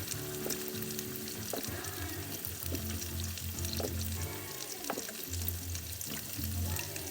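A teriyaki stir fry with sesame oil sizzles loudly and steadily in the pan as a generous pour of soy sauce goes in, with crackling spits rising over the constant hiss.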